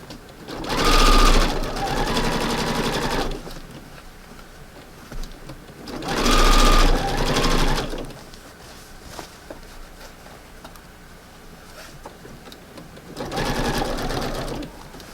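A sewing machine stitches thick pillow fabric seams in three loud, steady runs of a few seconds each, with quiet pauses between them.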